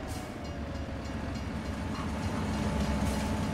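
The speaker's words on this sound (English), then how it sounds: "Oh, better stop for the train." A train passing by in Farming Simulator 25, a steady low rumble of rail cars rolling past with faint clickety-clack that swells slightly toward the end.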